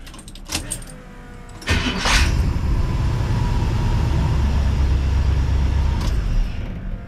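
A car engine fitted with FiTech Go EFI is hot-started: a brief crank, then the motor catches and settles into a steady, fairly loud idle close by, with a couple of clicks and clunks before it fires.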